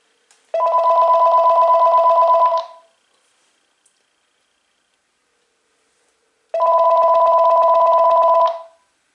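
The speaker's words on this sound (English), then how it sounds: "Let's go ahead and call this thing up to make sure that all the ringtones do work." A Panasonic KX-TG5243 cordless phone ringing during a call test: two loud, close electronic ring bursts about two seconds long, separated by a few seconds of near silence.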